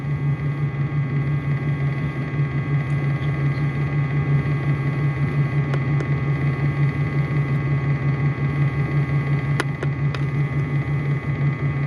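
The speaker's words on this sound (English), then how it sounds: "Yeah, it's definitely misfiring right now at idle." A 2004 Ram pickup's 5.7L V8 misfiring at idle, a steady low rumble with a constant hum and faint uneven pulsing, running close and alone with no talk.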